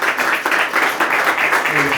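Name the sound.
congregation clapping hands as an offering to God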